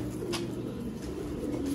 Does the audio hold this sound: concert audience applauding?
no